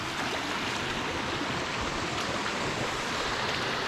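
A waterfall and a burn run through a wild Scottish glen, producing a loud, steady rushing roar of falling and flowing water that holds constant with no pauses or voices.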